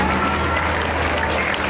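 An audience at a Día del Adulto Mayor celebration in Atotonilco applauds in a continuous, dense patter of clapping with a low crowd murmur beneath.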